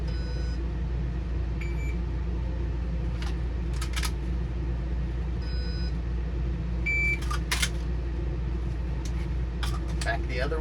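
A shot timer emits short high electronic beeps, several spread across a dry-fire pistol reload drill, over a steady low indoor hum with faint handling clicks.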